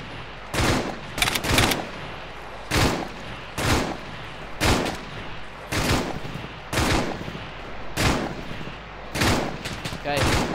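Repeated loud bursts of gunfire crack out in a military video game, spaced roughly once a second, with faint voices talking between shots.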